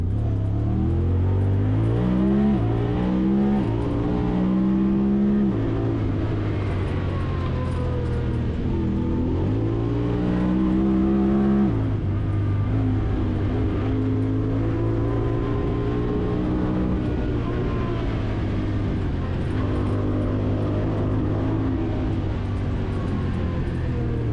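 A 2024 Honda Talon 1000X-4 UTV drives off-road in four-wheel drive, its engine droning loud and close with repeated rising and falling revs and gear changes throughout.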